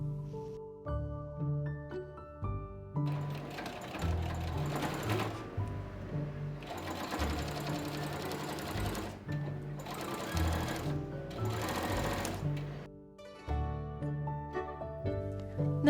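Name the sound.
sewing machine stitching a quilted makeup bag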